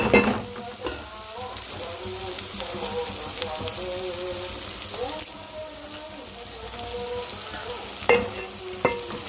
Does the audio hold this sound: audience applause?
no